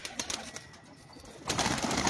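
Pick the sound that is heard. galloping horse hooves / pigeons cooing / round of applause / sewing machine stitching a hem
pigeons cooing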